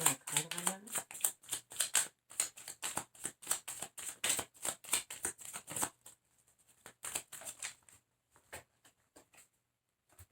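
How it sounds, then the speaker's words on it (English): Tarot cards are handled and laid down on a table during a reading, giving a quick run of crisp slaps and shuffling ticks that thin out to a few scattered, fainter placements. "I'm putting a card on that."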